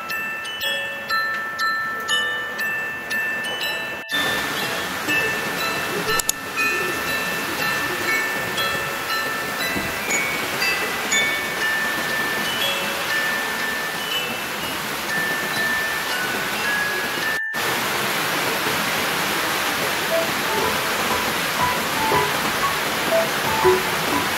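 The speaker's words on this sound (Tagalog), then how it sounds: "malakas yung ulan, walang tigil yung ulan" Steady, dense typhoon rain roars without pause, a broad hiss filling the whole clip with occasional drips and thin tonal squeals in the background.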